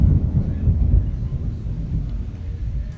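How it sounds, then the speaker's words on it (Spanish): Thunder rumbles low and continuously, a heavy rolling growl that swells early and then sustains more softly for three seconds with no voices over it. "Ahorita que estamos oyendo ahí los truenos"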